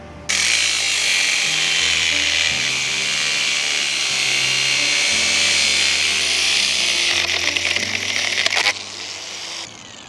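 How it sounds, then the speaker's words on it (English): An angle grinder cuts into a Hiplok MD1000 lock with a loud, steady high-pitched whine and grinding that holds for several seconds, then drops away near the end. "So I changed the disc out just because I went into the cut a little bit wrong"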